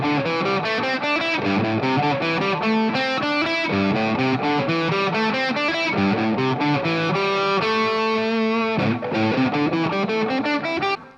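Distorted electric guitar plays a pentatonic scale pattern on the higher strings, a quick run of single notes that stays loud and steady with no talking.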